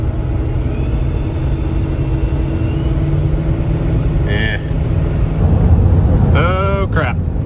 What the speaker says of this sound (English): Can you hear that squealing when I first tip into it?